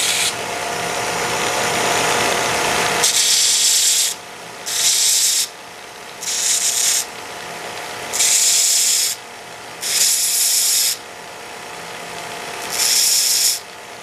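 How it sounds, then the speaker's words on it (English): Small pins are spun against a power sander to grind tapered points for patch cords of a Heathkit EC-1 analog computer; a continuous hiss of the sander is followed by a steady rhythm of repeated one-second grinding bursts. "now I spin them at an angle on the sander to put that tapered point on them"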